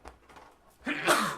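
A sneeze bursts out near the end of a quiet moment at a table during a T.I.M.E Stories board game session, loud and close after faint background murmur.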